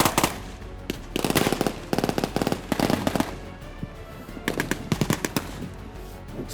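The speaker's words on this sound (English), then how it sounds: "M60 firing in the position" Bursts of rapid gunfire crackle in a Gulf War tank battle re-enactment with an M60 tank firing, several loud close volleys separated by brief pauses, with no voices.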